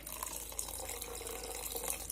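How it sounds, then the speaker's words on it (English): Water poured into a pan of potato capsicum bhaji, a steady splashing trickle that runs unbroken for about two seconds with no talking. "I'm going to add some more water because the smashed potatoes will get"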